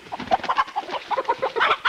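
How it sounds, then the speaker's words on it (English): Chicken clucking up close at an outdoor clambake, a quick string of short choppy clucks and squawks filling the brief moment. "Don't even jump on me, you stupid chicken."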